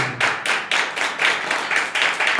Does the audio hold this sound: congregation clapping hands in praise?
yes